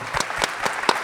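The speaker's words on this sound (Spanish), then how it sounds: "Un aplauso grande" Clapping from the audience at a panel discussion on ventilated facades: a few separate, evenly spaced hand claps in a sparse, regular rhythm, moderately close and with no speech over them.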